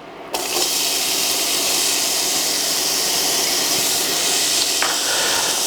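Onion hitting warm olive oil in a pot sets off a loud, steady sizzle that starts abruptly and holds as a dense, even hiss.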